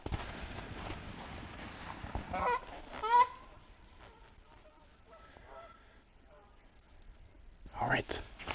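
A flock of geese honks from somewhere below at a spring camping spot, faint and distant calls rising in a couple of bursts, with someone speaking quietly nearby.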